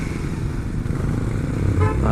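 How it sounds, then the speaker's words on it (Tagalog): Heavy December street traffic in Naga, Philippines, with motorcycle engines droning close by, a short burst of revving and a faint toot near the end, under a murmur of talk. "sobrang traffic na dito sa Naga"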